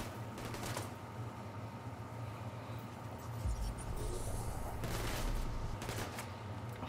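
Enemy gunfire in The Division 2 during a fight against Black Tusk, a dense crackle of rapid shots with two louder bursts standing out, heard alone without voices.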